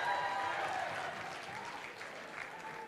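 An audience applauds at a Yarchei Kallah gathering, steady dense clapping that holds for a few seconds and then gradually thins and fades.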